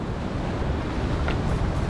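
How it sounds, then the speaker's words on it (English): Ocean waves surge and wash onto the shore at sunrise on Rapa Nui, a steady, close roar of surf with soft rising swells and no voices. "waves crashing in behind me, well, in front of me actually"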